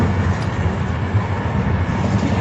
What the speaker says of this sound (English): Your train is like super loud to the point where I can't hear anything else.